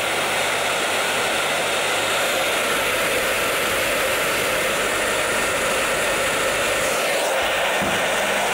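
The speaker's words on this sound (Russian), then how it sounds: "Взяли у мамы обычный фен и начали фенить" An ordinary household hair dryer runs steadily and loudly throughout, a continuous broadband whooshing roar with no pauses, used to warm a VAZ 2102 classic Lada during winter drifting.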